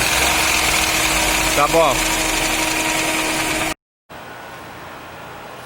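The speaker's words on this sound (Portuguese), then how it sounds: "vocês viram aí o barulho do motor do Ford Ka" A Ford Ka three-cylinder engine runs with a steady, loud mechanical drone and a brief change in pitch as it is revved. Someone speaks briefly, and the sound then drops out and returns as a quieter hum.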